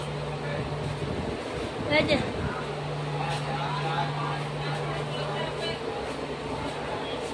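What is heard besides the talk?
inside a moving train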